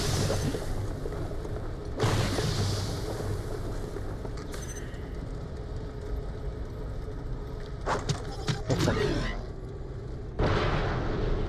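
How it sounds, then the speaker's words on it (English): Explosions in Borderlands: The Pre-Sequel hit as several sharp broadband blasts spaced a few seconds apart over a constant low mechanical hum, with a crackling cluster of bangs partway through. "the explosion actually hurts me as well"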